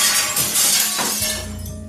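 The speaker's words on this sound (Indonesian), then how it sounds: "jendela kamarku seperti ada yang melempar dengan benda keras" A hard object strikes a glass bedroom window at night, a sudden loud crashing smash whose glassy ring fades over a second into low rumble and a faint lingering tone.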